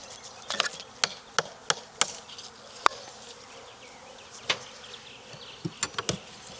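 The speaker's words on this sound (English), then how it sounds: "Tiny swarm. Well, not tiny, but a lot of drones in this swarm, though." A honeybee swarm heavy with drones buzzes around hive frames in Florida, a low steady hum broken by sharp wooden clicks and knocks as the frames are handled.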